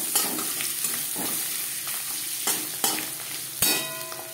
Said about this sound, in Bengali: নারকেল ভেজে নেব।